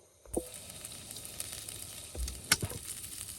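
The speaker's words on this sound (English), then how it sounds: "I'm going to cook my onion and my garlic in there." Onion and garlic frying in oil in a single pot, a soft steady sizzle with a few clinks and stirring knocks, faint and close, without talk.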